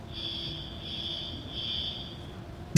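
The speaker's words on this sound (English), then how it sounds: "oh, the fire alarms are going off" A fire alarm sounds inside a gym as a steady electronic tone, pulsing in a few long beeps at moderate distance over low room noise, ending with a sudden loud knock close by.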